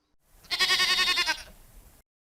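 A single sheep on a hillside gives one loud, close, wavering bleat lasting about a second, then falls quiet.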